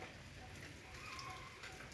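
Light drizzle falls outdoors in Thailand, a soft, steady hiss of fine drops that stays faint and even throughout, with no voices heard.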